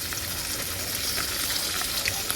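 Fish frying slowly in a pan over low gas, an even, continuous sizzle and hiss up close with faint crackles scattered through it, no talking.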